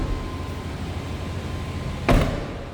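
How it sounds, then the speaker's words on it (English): A single solid thud of a 1995 GMC Sierra SLE Z71 pickup truck door shutting near the end, following a few seconds of quiet background hum. "Door closes nicely."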